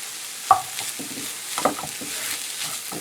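Grated coconut dropped into sesame oil in a pan for a milk shark fish varai, giving a soft sizzle with a few sharp stirring scrapes.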